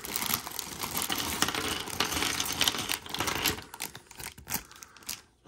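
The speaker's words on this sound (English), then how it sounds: "Let's make noise with the bag." Continuous rattling and clattering of small LEGO pieces shaken in a bag, dense and steady, then thinning into a few scattered rattles near the end.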